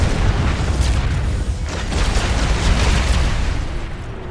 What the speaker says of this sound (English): There's too many explosions.